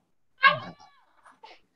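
A cat yowls once, loud and close, with a strained rising cry, followed by a few fainter trailing meows in an indoor setting.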